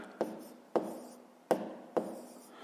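Pen strokes on paper while a fifth-grade math exercise is worked out: four short, crisp scratching strokes at a steady, unhurried pace, close and fairly quiet, each ending in a brief rustle.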